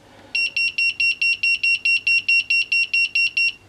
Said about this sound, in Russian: То, что у нас пиликает, это тестер наш пиликает